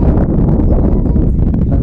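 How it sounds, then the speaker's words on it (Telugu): Strong wind buffets the microphone outdoors near a hilltop temple, a loud continuous rumbling roar with no talking. "అసలే గాలి అవుతుంది బాగా"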